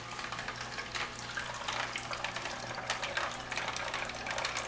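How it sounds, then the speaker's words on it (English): An Omega VERT VRT330 vertical juicer crushes almonds fed in with water, giving a steady grinding, watery churn with a low motor hum underneath, close and continuous without talk. "take like a ladle and actually scoop some of the almonds with the water at the same time and put it through the machine"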